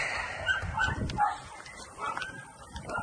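Three small puppies in a roadside box whimper and yip in a string of high, thin cries, close by, with faint rustling and some background voices.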